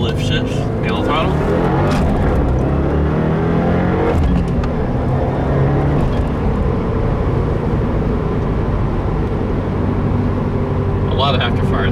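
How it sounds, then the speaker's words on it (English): A tuned 2015 Subaru WRX on a Stage 1 map pulls hard through its gears with no-lift shifts, loud engine roar rising and dropping, with popping afterfire on throttle lift and someone talking over the cabin noise. "A lot of afterfire there, like blowing off the throttle."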